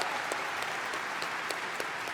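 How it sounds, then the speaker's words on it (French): A crowd at the BlizzCon 2023 opening ceremony applauds the Warcraft team with dense, steady clapping that sounds somewhat distant and fairly soft, with no one speaking. "Des applaudissements pour l'équipe de Warcraft."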